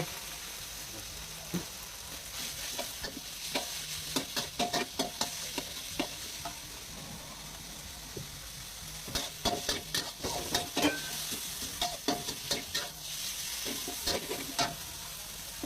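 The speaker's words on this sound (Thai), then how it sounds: "แล้วก็ผัด ให้เข้ากัน แล้วก็ ใส่หมูไป" Pork stir-fried in a pan with sweet peppers, a spatula scraping and clattering in bursts over a steady close sizzle, with no talking.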